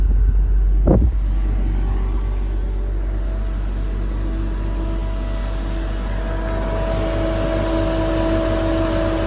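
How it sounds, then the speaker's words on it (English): A Porsche 986 Boxster radiator fan running at low speed with the AC on low, a steady close drone and hum with a constant tonal whine, preceded by a brief bump near the start. "So I'll turn the AC on low, and that should turn on the low speed fan."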